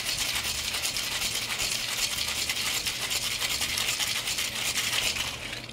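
A metal cocktail tin shaken hard with ice and fruit juice for a King Julian cocktail, giving a steady, close, continuous rattling wash of ice against metal with no talk over it.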